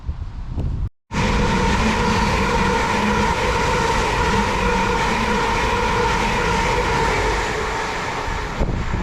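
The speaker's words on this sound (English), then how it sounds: "There goes 745010 there, heading over to London" Class 745 electric train, unit 745010, rolling through Broxbourne station toward London as a steady loud rumble and rush of wheels and air that runs for nearly the whole stretch after a brief silent gap.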